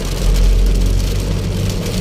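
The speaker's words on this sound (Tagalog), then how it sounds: "ang lalaki ng patak niya" Sudden heavy rain in Pasig pours down in a dense, steady broadband wash with big drops, loud and close, while low traffic and motorcycle engine rumble runs underneath.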